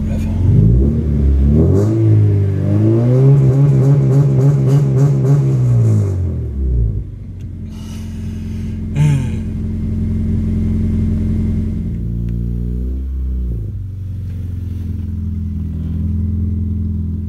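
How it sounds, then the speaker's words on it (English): A car engine revs hard and loud, its pitch climbing and holding before falling away, then settles into a lower rumbling idle with a few small blips. "Just give it another rev."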